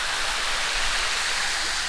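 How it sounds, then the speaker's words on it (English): Tumalog Falls in Cebu, Philippines, roars as a steady waterfall, a close, loud and unbroken wash of falling water with no voices over it. "So I'm just here in the water at Tumalog Falls"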